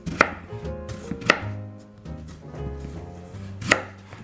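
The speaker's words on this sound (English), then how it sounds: "And about 3 millimeter slices of potato, and this is gonna be placed" A knife cuts a potato into 3 mm slices on a board, giving three sharp thuds at uneven intervals with soft scraping and handling sounds between them, close and clear.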